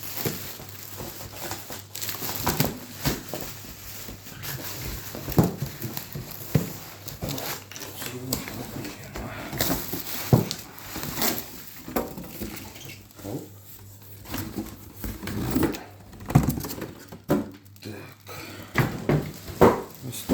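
An Ardesto GO-E745S microwave oven being unpacked from its cardboard box: crinkling packaging, plastic rustles, tearing tape and occasional light knocks, close and fairly quiet, continuing irregularly throughout.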